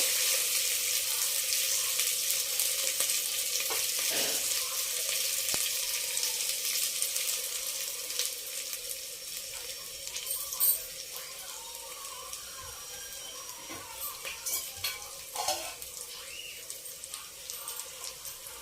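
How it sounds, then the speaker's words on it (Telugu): Mutton curry sizzles in hot oil in a pan, a faint steady frying hiss broken by occasional scraping stirs. "చూడండి ఎలా వేగిందో."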